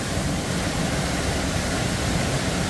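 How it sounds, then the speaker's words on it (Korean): A waterfall in Yumyeong Valley on Yumyeongsan, Gapyeong, rushes as a loud, steady broadband roar, close and unbroken, with no voices. "아, 이제 여기 2차 폭포."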